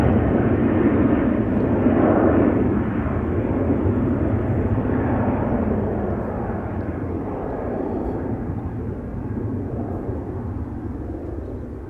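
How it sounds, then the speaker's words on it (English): An Airbus A330-200 bound for Kigali takes off from Schiphol's Polderbaan, its jet engines producing a loud, sustained roar that peaks early and slowly fades as the aircraft climbs away, with no voices. "that's the A330-200 to Kigali"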